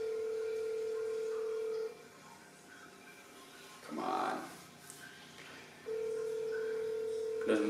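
A phone call rings out unanswered: a steady ringback tone in long evenly spaced pulses, heard close over a line with a short pause between rings, and a voice mutters briefly in the gap.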